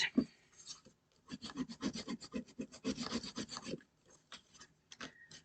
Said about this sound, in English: I'm just rubbing over the top of that to make sure it's really well adhered.